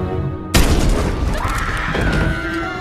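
Gunfire in a dramatic film scene: a single sudden, loud blast cuts in after a quiet moment and is followed by sustained noisy rumble and ringing from the soundtrack.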